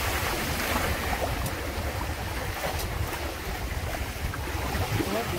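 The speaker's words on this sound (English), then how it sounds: "I love these waves." Waves splash and rush steadily around a Windrider 17 trimaran under sail, mixed with strong wind buffeting the microphone, a constant close wash of water noise with no talking.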